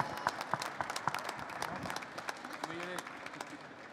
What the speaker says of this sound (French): on peut les applaudir une dernière fois pour cette catégorie professionnelle dessert chocolat